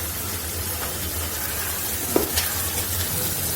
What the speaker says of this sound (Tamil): மசாலா இதில் கொட்டி வதக்கி விடுறோம்